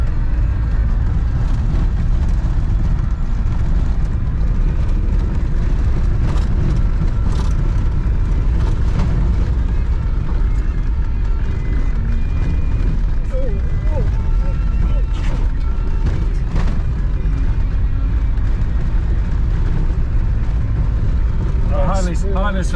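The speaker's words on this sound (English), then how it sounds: "The old diesel Land Rover." An old diesel Land Rover grinds uphill on a dairy farm road toward clouds, its low engine drone and rumble steady and loud from inside the cab, with people talking over it.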